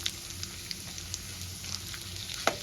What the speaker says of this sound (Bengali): ফোড়নটা আমি একটু হালকা ভেজে নেব